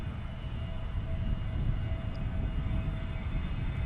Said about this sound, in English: On its takeoff roll, right in front of us.